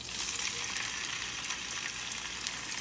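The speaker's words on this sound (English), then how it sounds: "Watch it sizzle, baby." Steady crackling sizzle of a lingcod fillet frying in a pan, a continuous bright hiss with small pops, moderately quiet and close.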